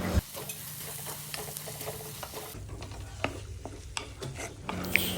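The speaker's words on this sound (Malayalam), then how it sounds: "ഒരു തക്കാളി ചെറുതായിട്ട് കട്ട് ചെയ്തുകൂടി ചേർത്ത് ഒന്നുകൂടി വഴറ്റിയെടുക്കുക." Chopped tomato sautéing in a hot pan with pepper powder and salt, with a steady sizzle under repeated close scrapes and taps of a spoon stirring against the pan.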